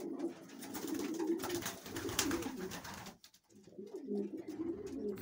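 Several pigeons, excited breeding males, coo in low, throaty rolling calls, overlapping continuously, with a brief pause midway before the cooing resumes.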